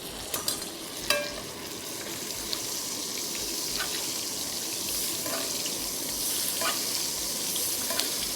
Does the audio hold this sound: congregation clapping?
no